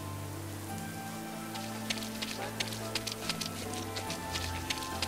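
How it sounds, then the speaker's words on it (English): Pouring rain falls steadily in the adventure game Lost Horizon as a continuous dense hiss, with low music humming underneath and brief sharp ticks scattered through the middle. "standing around here all day in the pouring rain"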